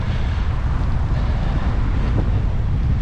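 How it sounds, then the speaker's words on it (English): Loud, steady wind buffets and rumbles against the microphone while someone rides a one-speed bike through Birmingham. The deep roar fills the whole stretch without a break. "It's quite windy."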